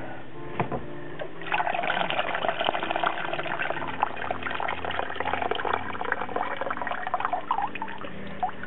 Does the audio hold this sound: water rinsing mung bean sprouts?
yes